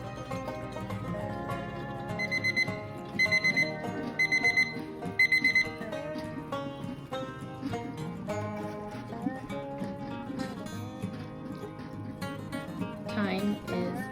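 A kitchen timer alarm goes off during water bath canning of old-fashioned blackberry jam, repeating in short rhythmic bursts of beeps amid background music and kitchen sounds.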